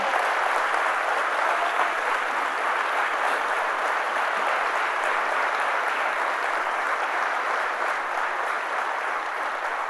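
A church congregation applauds loudly during a Sunday morning service, a continuous dense wash of clapping that holds steady for about ten seconds with no break.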